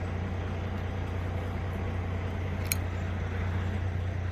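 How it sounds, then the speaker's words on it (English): A truck idles close by with a steady low diesel rumble and constant road-noise hum, loud and unbroken throughout, with a brief faint click partway through. "Got to get away from that truck a little bit so you can hear me."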